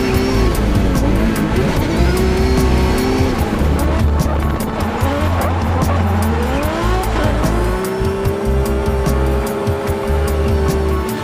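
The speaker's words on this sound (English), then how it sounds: "This car was actually built purposely for drifting" A Scion Racing Toyota 86 with a 2JZ engine of about 870–900 horsepower drifts at Sonoma, its engine roaring loud and close while the tires squeal in long sustained screeches, with no talk over it.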